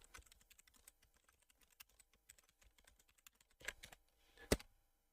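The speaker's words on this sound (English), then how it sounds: "we'll put in our passphrase once again" A passphrase typed on a computer keyboard, with quick scattered keystrokes, close and quiet, closing with a couple of louder heavier key presses and no speech.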